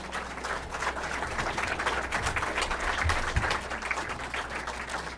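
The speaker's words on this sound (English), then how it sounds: "Now we can have a big round of applause." A town committee forum audience applauds, with many hands clapping in a dense, steady, moderately distant round that holds evenly for several seconds and has no talk over it.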